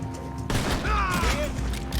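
Pistol gunfire in a video game: a dense run of sharp shots starts abruptly and continues as a busy, loud burst of close-range fire mixed with clattering game effects.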